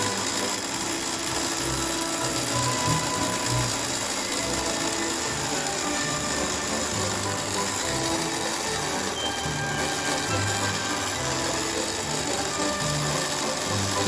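Brass self-tapping screws, three-quarter inch, being driven into wood for a crude rail sweeper, a steady mechanical ratcheting and whirring that runs close and continuous throughout, with no talking.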